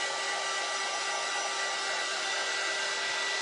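A hair dryer blows on stencil paint, a loud continuous close whoosh with a steady motor whine and no variation.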